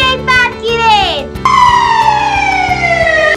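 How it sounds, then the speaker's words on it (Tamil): A fire engine siren sound effect in a children's song: a loud wailing tone with sliding pitch sweeps that settles into a long, slowly falling wail, heard over a steady rhythmic musical backing. "நான் ஒரு தீயணைப்பு வண்டியை பார்க்கிறேன்."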